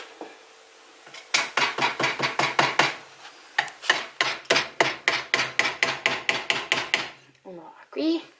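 A hammer drives very small nails into a wooden beehive frame, striking in rapid, steady runs of sharp close taps with a brief pause between runs.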